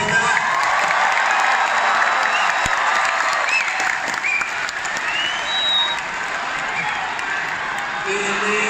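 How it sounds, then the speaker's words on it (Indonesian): An audience at a political convention in Indonesia gives sustained applause, a steady dense wash of clapping with scattered cheers that holds at even loudness for several seconds. "Saya ingin tepuk tangan sekali lagi untuk Bu Reda."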